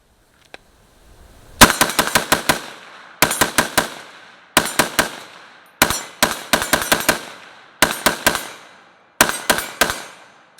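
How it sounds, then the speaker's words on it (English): Galil ACE .308 rifle fired outdoors in rapid strings, six or seven bursts of several loud cracking shots each, separated by short pauses. "So I think we should shoot some more, because I don't shoot this gun enough."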